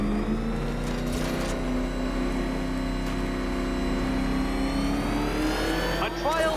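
A car races around a racetrack in Batman Arkham Knight, its engine loud and close, holding a steady roar that climbs in pitch as it accelerates.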